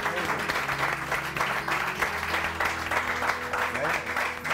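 Studio audience applause for a guest on a morning television show, a dense, steady round of clapping over music playing in the background, moderately loud and continuous throughout.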